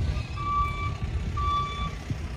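A truck at a car dealership, sounding its reversing alarm in the background: steady repeating beeps over a low rumbling engine idle, with no talk.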